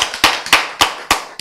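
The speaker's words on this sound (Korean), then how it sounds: "박수 쳐지." Sharp, loud hand claps ring out one at a time in a steady rhythm, about five distinct close strikes with short decays between them.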